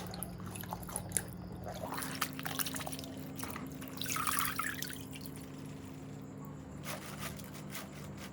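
Trickling and dripping of water as baek kimchi vegetables are rinsed with pH 9.5 alkaline water in a sink, a steady close wash over a low background hum, with no talking.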